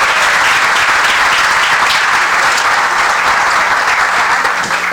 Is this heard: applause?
yes